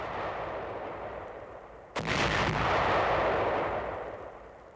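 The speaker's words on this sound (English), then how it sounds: "These anti-personnel shoe mines are exploded four at a time." Four anti-personnel shoe mines, set with fuse and charge in a cleared minefield, detonate together in one sharp, loud blast that rolls into a long, fading rumble over steady background noise.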